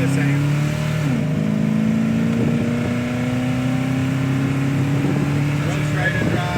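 A 1965 Chevrolet Nova Super Sport cruises down the road, its engine droning steadily with rising pitch through an upshift, loud and close from inside the car.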